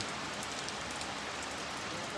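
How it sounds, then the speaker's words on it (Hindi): Steady rain falls on a Toyota Innova car in Dehradun, a continuous even hiss of drops on the car. "देखो मस्त धो जाएगी देहरादून की बारिश"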